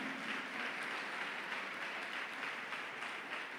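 A church congregation applauding during a sermon, a steady, dense wash of clapping heard from within the room, moderately loud and even throughout with no speech over it.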